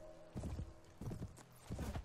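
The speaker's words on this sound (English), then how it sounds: "Oh, wow. Horse charge." Mounted horses charge in the Mount & Blade video game, three quick bursts of heavy galloping hoofbeats close by, each a rapid clatter with short gaps between.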